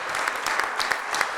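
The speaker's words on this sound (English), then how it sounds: "Everybody should clap for themselves" An orthopedic society conference audience applauds in a dense, steady wash of many hands clapping, heard alone and sustained throughout.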